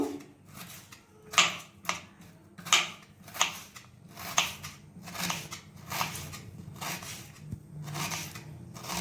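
Onions sliced thin with a knife on a cutting board in a home kitchen, a quiet, close series of crisp chopping taps in a fairly steady rhythm, without speech.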